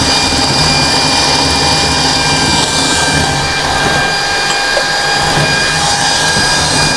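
An electric mixer kneads sweet bread dough for roti manis polo while water is added. It gives a loud, constant whirring drone that fills the whole stretch, close by, with no talking.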